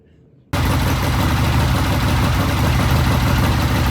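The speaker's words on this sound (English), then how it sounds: "there's the bike running on the new ignition system, the one that's lashed to the frame" A vintage British motorcycle engine fitted with a new ignition system catches abruptly after half a second of near silence, then runs steadily and loudly at idle close by.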